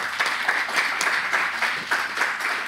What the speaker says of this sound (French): Je vous demande d'applaudir très fort nos trois intervenants.